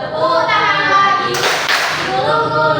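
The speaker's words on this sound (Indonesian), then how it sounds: "Buka tutup, tepuk tangan lagi" Children's hand clapping during an action song, a few quick claps standing out over sung voices, loud and close with an adult leading.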